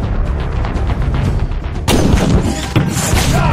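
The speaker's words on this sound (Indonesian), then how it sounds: "tiba-tiba ada satu tembakan melesat ke lengan Will" Gunfire in an action film as a shot strikes a man's arm during a prison escape: a sudden loud broadband blast bursts out of a dense, busy soundtrack, followed by a second sharp hit moments later.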